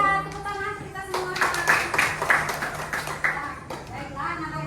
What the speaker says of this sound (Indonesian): Ya, tepuk tangan kita semua.